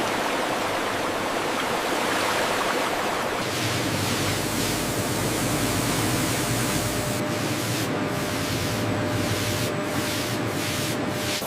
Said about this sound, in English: High-pressure water jets meticulously clean each rind, ensuring pristine quality.